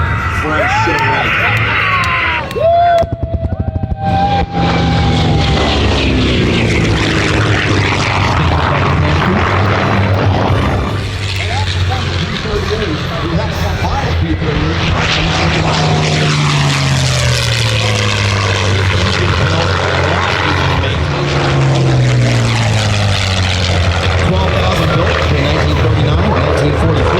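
A Grumman F8F Bearcat propeller fighter makes loud, close passes at a redwoods airshow, its engine roar swelling and falling in pitch as it flies by, while voices are heard faintly under the noise.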